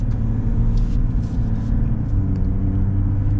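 A 2024 Chevy Silverado Trail Boss diesel pickup on chunky all-terrain tires accelerates, its engine giving a steady, loud low rumble from inside the cab, with no talking.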